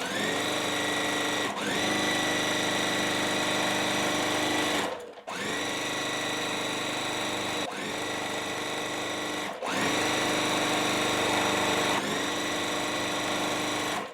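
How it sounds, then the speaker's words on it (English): A sewing machine stitches strips of quilting fabric, a loud close mechanical whir running in long steady bursts broken by short stops. "I'm gonna sew it like this, and then I will subcut it to what we need"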